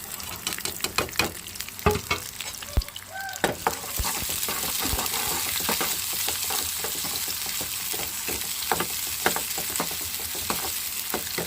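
Onions frying in a pan with a close, steady sizzle, opening with a run of quick scraping and tapping stir strokes, then settling into a dense, even hiss with occasional knocks, no talking.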